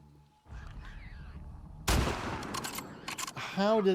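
A gunshot rings out in the survival video game Grounded, a single sharp report standing out after quieter game ambience, followed by scattered clicks and game sounds.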